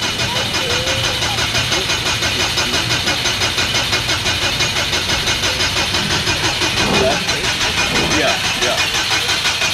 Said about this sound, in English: It's not starting.